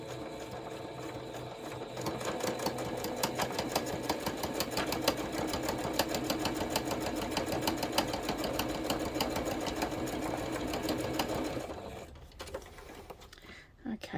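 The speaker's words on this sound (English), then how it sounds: "we're just going to sew down to the line and stop right on it" Sewing machine running steadily for about twelve seconds as it stitches a 1/4 inch seam on fabric for a flat-bottom tray, backstitching at the ends, with a dense continuous mechanical whir that stops near the end.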